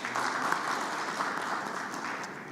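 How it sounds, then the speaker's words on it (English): Audience at the Umeme company annual general meeting claps steadily for a few seconds, a dense, even applause from a mid-distance crowd with no talk over it. "I think he deserves a better applause."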